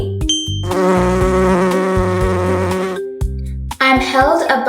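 Buzzing insects, presented as bees, give a loud, close, sustained drone that stops and restarts in bursts, mixed with a few bright chime tones and a short stretch of talk.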